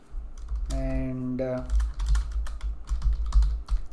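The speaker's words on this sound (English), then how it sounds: "I'm typing hi" Rapid keystrokes clatter on a computer keyboard while someone speaks over them, the tapping close and continuous under his voice.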